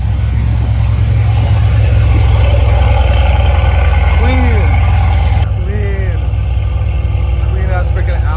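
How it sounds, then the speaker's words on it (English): A car engine cold-starting, a loud, steady low rumble that holds throughout, with voices talking over it. "Oh, cold start."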